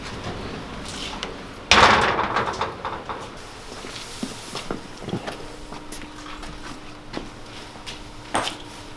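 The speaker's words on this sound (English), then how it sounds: "Just pull the door to" A single sharp thud of a door shutting, followed by quieter room noises and a few faint knocks.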